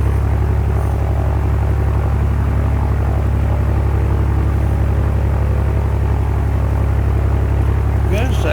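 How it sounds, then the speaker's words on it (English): A loud, steady aircraft engine drone from the X-Plane 11 flight simulator fills the cockpit, an unbroken propeller roar that stays constant throughout. "You couldn't hear my voice at all over the noise of the engine."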